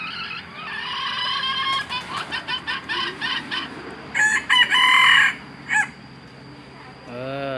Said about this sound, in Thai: เป็นไก่ที่ขันดีขันม่วนโอเคนะครับ ขันแบบนี้นะครับ